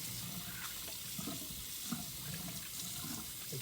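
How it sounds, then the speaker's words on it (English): Tap water runs steadily into a hospital sink while hands are washed, a continuous splashing hiss close by with small splatters and no talk. "You can turn off the water with your elbow."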